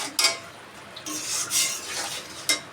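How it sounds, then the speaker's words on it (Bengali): Spice masala being stirred and fried in a pan for a pumpkin and shrimp curry: bright scraping strokes of a spatula against the pan in uneven bursts over a soft sizzle. "মশলাটা একটু ভালো করে কষে আসুক"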